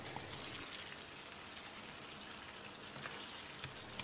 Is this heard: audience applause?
no